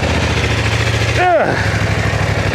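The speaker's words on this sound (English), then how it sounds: "not a bad sound, right? It is completely stock and this is a twin engine" A stock BMW F 900 XR twin-cylinder motorcycle engine idles with a steady low throbbing rumble, briefly cut by a short whistling pitch sweep before the idle continues.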